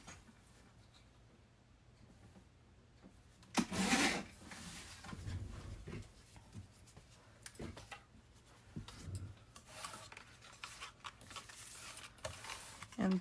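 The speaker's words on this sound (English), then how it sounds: "I'm going to do it on my trimmer over here." A paper trimmer blade slides across cardstock, cutting it down for a craft tag: a short, scraping rasp followed by quieter rubbing and handling noises at close range, with light talking around it.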